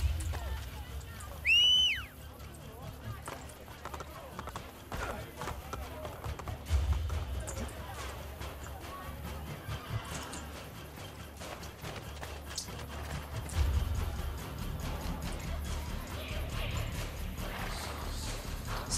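A horse in Assassin's Creed Brotherhood, during the Colosseum rescue mission, trotting and galloping, with a soft run of hoofbeats and a brief whinny early on, faint under game music, while a player talks over it.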